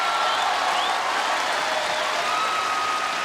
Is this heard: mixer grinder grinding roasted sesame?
no